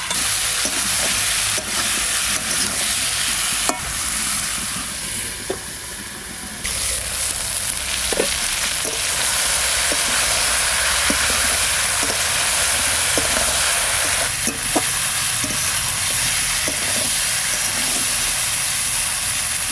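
Snakehead fish curry sautéing in a clay pot hisses loudly and steadily, with scattered soft scrapes and taps from stirring throughout a long stretch, no one speaking.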